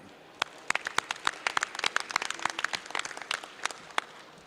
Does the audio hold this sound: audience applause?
yes